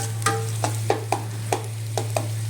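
A small onion and a small tomato frying in a pan, with a steady sizzle under a low hum and a spatula stirring at regular intervals, close and alone.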